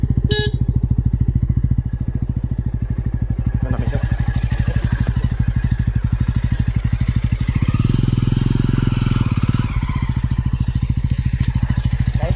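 A motorcycle engine idles and revs steadily close by, its low chugging rising briefly louder midway before settling back.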